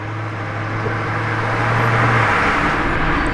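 Lamborghini Revuelto supercar passing on a road with a low steady engine drone that swells slightly as it approaches, heard amid general traffic noise.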